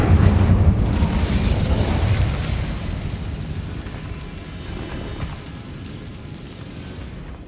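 An Incendio fire spell is cast in the Hogwarts Legacy video game: a loud, deep whooshing burst up front, then a long roaring, crackling rumble that slowly fades across several seconds, with no talking.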